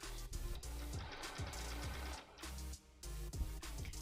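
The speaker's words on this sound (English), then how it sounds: "I am just trying to sew on a webbing." A sewing machine stitches webbing with a quick, rhythmic mechanical whirr, starting and stopping in short runs at close range, with no talking.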